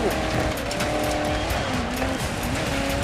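A Porsche Cayenne drives through mud in the racing game Dirt 5, its loud engine roaring continuously with tire squeals and skids, while a player talks excitedly over it.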